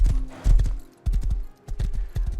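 Horse hooves gallop in the video game Rust, quick clip-clop bursts in three rhythmic groups, close and fairly loud with brief gaps between.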